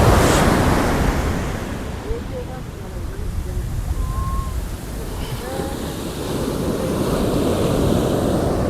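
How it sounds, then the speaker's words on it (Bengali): Ocean surf rolls onto Puri beach in a heavy, continuous wash, close and loud, swelling again toward the end amid blustery wind. "ঢেউ দেখো, ঢেউ দেখো, ঢেউ,"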